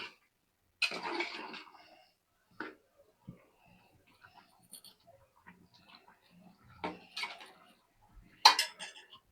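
A lid set onto a pot cooking a potato curry with dried rohu fish, with a couple of metallic clanks and rattles close by, then sparse small kitchen knocks.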